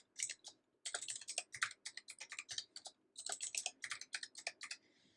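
Rapid bursts of keystrokes on a computer keyboard as a password is entered, close and clear, in two quick runs separated by a brief pause, with no voices.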